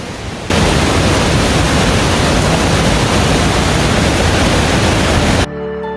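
A waterfall in Switzerland, heard as a loud, dense, unbroken roar of rushing water that swells in suddenly at the start and cuts off just before the end.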